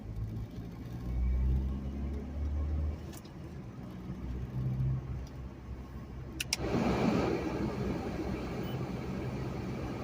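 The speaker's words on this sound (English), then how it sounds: "I turned the heat all the way up and I turned the defroster on" Car heater and defroster fan blowing at full heat in a cold manual-transmission car, a steady broad whooshing rush that swells louder partway through, with a faint engine hum beneath.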